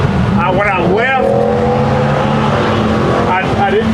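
A boosted Honda S2000 accelerates hard on a speed run at the S2000 Speed Fest, its engine loud and close, with pitch sweeping sharply upward in quick bursts over a steady droning tone.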